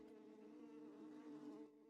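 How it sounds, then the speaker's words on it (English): Steady buzzing of bees, a dense droning hum that holds at a moderate level for nearly two seconds and then drops away, with no voices over it. "Oh, it's bees"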